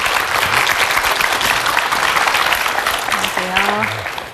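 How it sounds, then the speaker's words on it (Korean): Hearty audience applause welcoming philosopher Kang Shin-ju to a televised lecture on Zhuangzi; loud, dense clapping fills the clip at an even level, with a brief voice briefly audible near the end. "힘찬 박수로 모시겠습니다"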